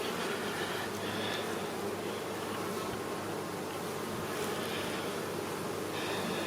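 Honey bees at an active hive make a dense, continuous buzzing drone throughout, steady and moderately loud, with no talking.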